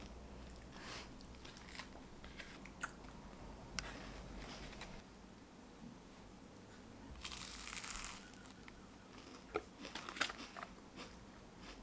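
Close crunchy bites and chewing of a chocolate pastry, with soft irregular crackles and mouth noises and a brighter crunch burst near the end, fairly quiet overall.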